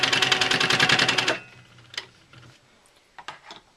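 Sewing machine stitching a quilt block, a rapid steady burst of needle clatter for over a second that then stops, leaving only faint handling taps and rustles.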